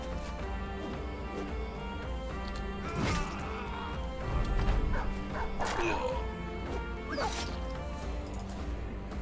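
A dog in the fantasy war game Battle Brothers barks and whimpers in several short, sharp yelps over steady background game music and ambience.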